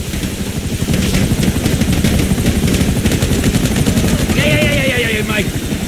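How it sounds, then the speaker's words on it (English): Helicopter rotor thumping steadily with bursts of gunfire in the GTA V video game, loud and continuous throughout, with a rising whine late on. "Chopper, right behind us!"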